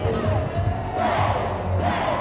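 A crowd of nearly 500 at an indoor sports complex Zumba fundraiser, a steady roar of cheering and whooping voices that carries on unbroken throughout.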